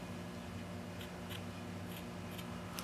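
Scissors trim a fluffy yarn pom-pom made with a Clover pom-pom maker, giving several quick, faint snips close by over quiet room tone, with no talk.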